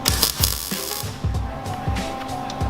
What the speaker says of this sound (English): Welder sounds good